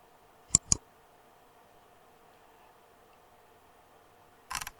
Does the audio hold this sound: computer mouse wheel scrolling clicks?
yes